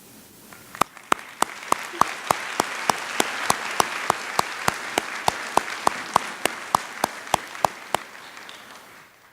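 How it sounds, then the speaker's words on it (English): Applause from a commencement ceremony audience at a college, a dense continuous crowd clapping heard over sharp, evenly spaced clicking beats throughout, steady and moderately loud for the full stretch. "allow us to recognize you with our applause for all you do every day for this college and these amazing students"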